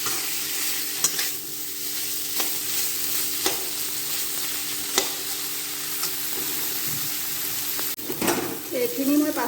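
A spoon scraping and stirring masala gravy for banana flower in a hot frying pan, regular clinks and scrapes over a continuous low sizzle, close and without talk.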